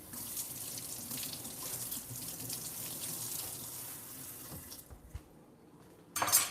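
Water runs steadily from a kitchen tap as food is rinsed in the sink, a constant close hiss that cuts off near the end before a brief splash.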